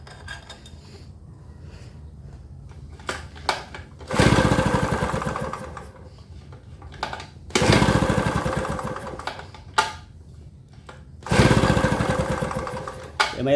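Inverter generator that won't start, cranked while its spark ignition is checked: three loud rasping bursts of a few seconds each, with quieter clicking and ticking in between, close by and without talking.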